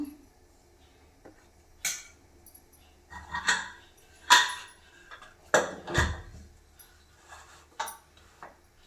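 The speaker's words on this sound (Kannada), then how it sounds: "ಕುಕ್ಕರ್ ಕ್ಯಾಪನ್ನು ಹಾಕಬೇಕಾಗುತ್ತೆ ಇವಾಗ" A pressure cooker of mutton sambar is lidded with a series of separate metallic clanks and scrapes, a handful of sharp hits spread over several seconds in a quiet kitchen.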